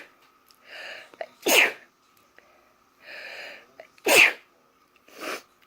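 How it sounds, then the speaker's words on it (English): A woman sneezes loudly and close by, three sharp bursts each preceded by a short inhaling gasp, with quiet pauses in between. "sorry, I'm going to sneeze."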